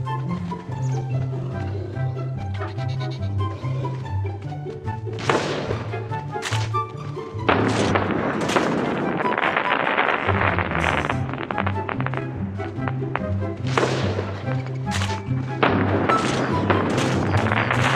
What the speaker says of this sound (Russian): Теперь повернись в мою сторону и выстрельни в потолок.